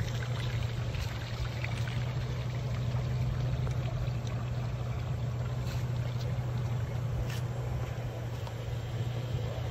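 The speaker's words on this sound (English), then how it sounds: "Black tank first. Pull the little trigger. You pull the trigger here and it empties." An RV black waste tank on a Cruise America 25 ft rental drains after its trigger valve is pulled, giving a continuous rushing, pouring water flow with a low steady rumble, close and unbroken throughout.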